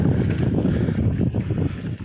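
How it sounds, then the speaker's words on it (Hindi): Strong wind buffets a microphone outdoors at an old haveli-style house in a village in Sikar, making a continuous loud, low, gusty rumble with no clear speech. "हवा तेज़ चल रही है"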